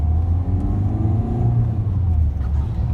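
A used Ford EcoSport engine revving hard under acceleration during a power test drive, a steady loud low rumble and whir with no break, no talk over it.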